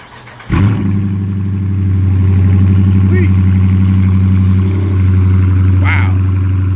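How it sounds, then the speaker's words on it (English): A 2019 Dodge Challenger cold-starts with a sharp crank and catch, then settles into a loud, deep, steady idle close by. "today I'm gonna give y'all a cold start on this 2019 Dodge Challenger"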